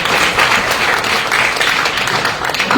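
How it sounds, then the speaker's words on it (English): Conference audience applauding at the end of a panel session, a dense, loud and sustained roar of many people clapping together without pause. "So give all of us a clap."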